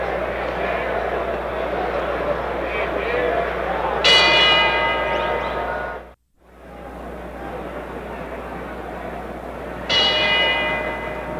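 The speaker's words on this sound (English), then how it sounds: "The bell for round 4" Boxing ring bell clanging twice to start round 4 of George Foreman vs. Gregorio Peralta, sharp ringing strikes over a loud, steady arena crowd and commentary.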